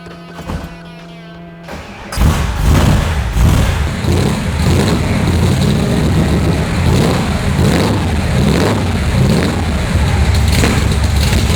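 A 1965 AC Shelby Cobra engine cranks and fires up, then settles into a loud, rough, rumbling idle that continues steadily close by.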